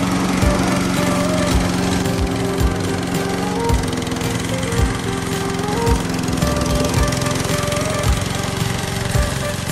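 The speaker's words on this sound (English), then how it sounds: "engine starts, turn the throttle to the middle position." A remote control track crawler lawn mower's engine runs loud and close with a steady buzzing drone and rapid mechanical chatter, holding constant for about ten seconds.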